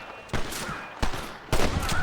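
Fireworks going off in a street in the Red Dead Redemption video game on PC: three sharp, loud bursts about half a second apart, each trailing into crackling, set against a steady ambient background.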